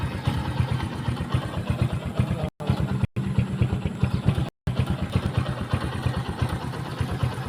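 A motorcycle engine idles in a flooded neighborhood with a steady low chugging rumble, close by, broken by a few brief dropouts.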